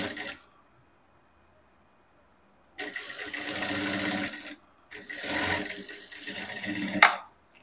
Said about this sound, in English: And then I'm going to sew down on the 1/2 inch.